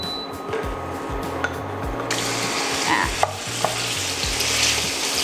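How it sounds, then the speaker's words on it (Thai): Diced beef stir-frying over high heat in a hot wok for Thai basil beef fried rice, with a steady loud sizzle. Rhythmic scraping and clanking strokes of a spatula stirring the meat repeat throughout. "จากนั้นเราใส่เนื้อที่หั่นเต๋าลงไป เปิดไฟแรงเลย"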